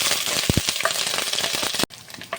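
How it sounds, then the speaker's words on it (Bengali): Garlic and ginger paste sizzling in hot mustard oil, a dense spattering fry with a few sharp stirring knocks before cutting off abruptly near the end. "তো রসুন বাটা আর আদা বাটা দিয়ে দিয়েছি, 1-2 মিনিট কষিয়ে নিয়েছি।"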